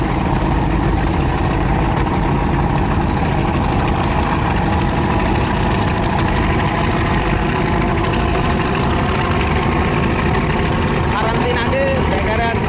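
Passenger launch pulling away from Sadarghat in Dhaka, its heavy engine droning loud and constant, with a dense rumble and murmur of surroundings throughout.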